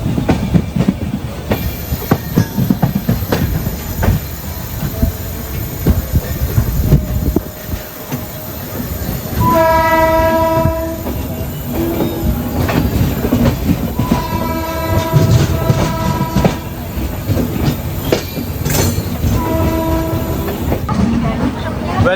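A Kakinada–Mumbai LTT Express rolls slowly near Gannavaram, with continuous rumbling wheels and rail clatter from inside the train and a long sustained horn from about ten seconds on.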